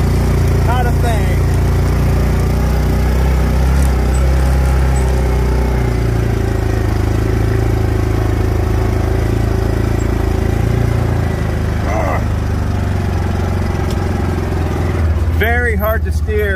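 An AXIS 700 utility vehicle nicknamed Stubby runs loud and steady while climbing a hill in four-wheel drive, its close engine drone rising in pitch near the end, with a voice speaking briefly over it.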